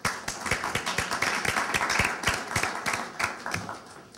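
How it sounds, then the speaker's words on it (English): Scattered clapping from a small group at a debate, individual claps distinct and uneven, fairly close and moderately loud, continuing for several seconds. "Let's have an applause for our city staff."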